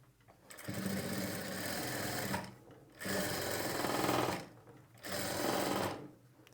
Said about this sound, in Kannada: ಈ ಲೈನಿಂಗ್ ಮೇಲೆ ಥ್ರೆಡ್ ಪೈಪಿಂಗ್ ಪಕ್ಕದಲ್ಲೇ ನಾವು ಒಂದು ಹೊಲಿಗೆ ಹಾಕ್ಕೊಳ್ಬೇಕು